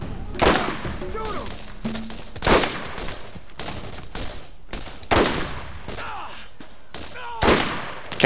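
Gunfire in the video game Borderlands, heard from a third-person view: loud shots in clusters roughly every two to three seconds, with quieter scattered shots and game noise between them.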